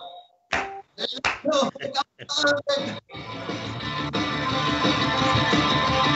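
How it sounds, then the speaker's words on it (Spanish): An audience claps along with live music at a comedy show. A few loud separate claps come first, then steady rhythmic group clapping blends with the music and runs to the end. "Arriba esas palmas, familia."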